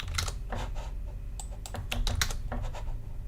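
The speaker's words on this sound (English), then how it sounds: "Stop typing wrong numbers." Fast, steady typing on a computer keyboard while entering numbers, with close, crisp key clicks that keep coming in quick runs throughout, and no voices.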